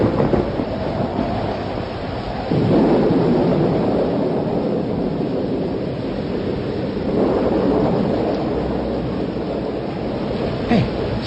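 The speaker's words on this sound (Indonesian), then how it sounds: "menatap air hujan yang dihempaskan angin kencang" Strong wind drives rain through a thunderstorm, producing a continuous broad roar that swells into louder gusts twice and carries on with no speech over it.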